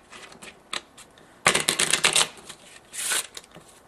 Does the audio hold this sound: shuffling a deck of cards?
yes